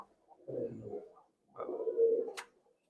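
A Tippler pigeon coos in two low, rolling bursts, close and fairly soft, with a short pause between them and no voices.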